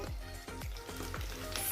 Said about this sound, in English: I'm frying my goat. It's splashing